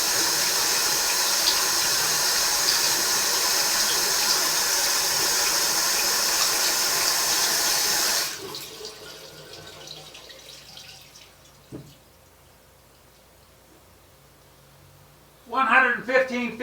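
Water rushes steadily through a pipe or hose near an alley wall, a loud hiss that cuts off abruptly halfway, followed by quiet and then a brief burst of talking.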